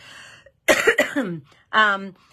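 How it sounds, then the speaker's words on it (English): Two or three sharp coughs close to the microphone, followed by a brief voiced throat sound after a short pause. "I've still got a bit of a cough"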